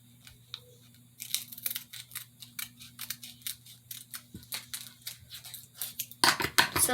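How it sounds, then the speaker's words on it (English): Scissors snip through paper while making a small handmade notebook, a quick run of crisp, close cuts in an uneven rhythm over a low steady hum, ending with a louder rustle of paper being handled. "cut it."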